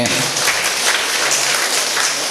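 Loud, steady applause from an audience at a self-help group federation's religious gathering in Konaje, continuous dense clapping filling the whole stretch with a faint murmur beneath.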